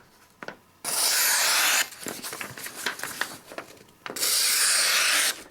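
A SOG Ace knife blade is sharpened on a Sharpmaker, with two long, bright scraping strokes at the start and end and softer, irregular rubbing and light taps between them, close and quiet.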